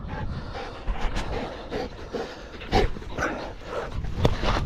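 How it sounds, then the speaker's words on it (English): Dogs working livestock in a vineyard, with scattered barks and whimpers rising over rustling outdoor noise, some close and some farther off, while a handler calls out to them. "Good dogs."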